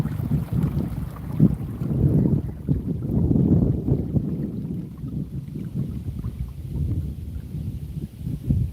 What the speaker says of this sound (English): And that wind picked up too.